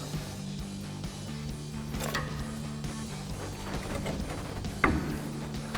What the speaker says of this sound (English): Now I'm gonna have to lower my pole jack a little bit to get it over that lower control arm.